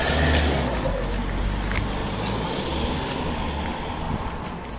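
A car approaching and driving past outdoors, its broad engine and tyre rumble steady and fairly loud throughout with a slight swell and fade, no talk over it.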